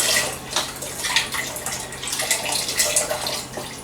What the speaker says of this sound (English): And then we're going to add to that equal parts water.